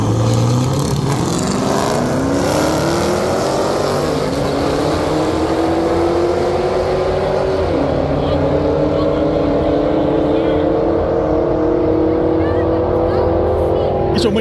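Race cars roar past on a track, engines revving and rising in pitch as they accelerate and pass, loud and continuous throughout, with no clear talk over them.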